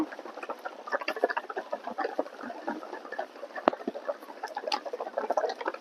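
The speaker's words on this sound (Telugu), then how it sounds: "వర్షం పడటం స్టార్ట్ అయింది చినుకులు పడుతున్నాయి" Light rain starts to fall on an open square in Kuala Lumpur, producing a soft, steady patter of scattered drops with occasional sharper taps, heard alone without talk.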